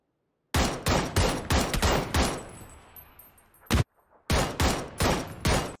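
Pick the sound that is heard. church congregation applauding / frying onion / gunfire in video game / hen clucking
gunfire in video game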